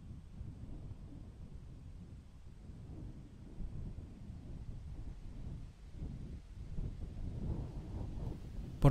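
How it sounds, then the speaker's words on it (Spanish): Low rumbling thunder and gusting wind from an approaching storm in open, remote country, a continuous deep roll that swells in waves and grows stronger toward the end, with no voices. "vimos una tormenta aproximarse"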